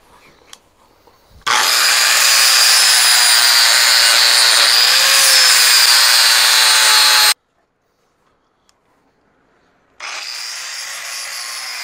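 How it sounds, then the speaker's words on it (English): Angle grinder deburring the welds on a Diacro metal table, loud and steady for about six seconds, stopping, then starting again after a short silence. "Drop the grinder."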